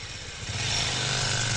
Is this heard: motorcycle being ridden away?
yes